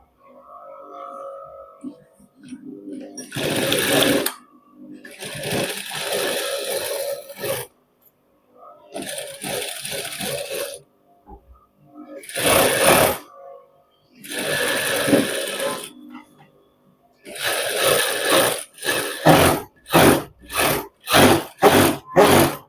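A sewing machine stitches a shirt in separate runs of a few seconds each, with short pauses between. It ends in a quick series of brief, evenly spaced bursts, loud and close.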